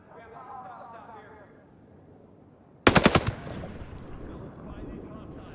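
Ghost Recon: Breakpoint gunfire cuts in halfway as a sudden loud rapid burst of about five shots, then fading echoes, while a voice talks quietly before and after.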